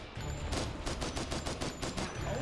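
Rapid gunfire in the zombie video game Corridor Z crackles in a loud, continuous burst of closely spaced shots, with no voices over it.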